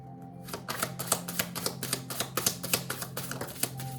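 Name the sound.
shuffling tarot cards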